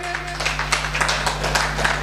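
Steady, crowded clapping from an audience at a stage event, continuous and moderately loud throughout with a constant hum beneath.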